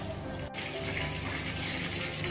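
Water running steadily for a dipping sauce for steamed fish cakes, a continuous splashing hiss after a brief break near the start, with no talk.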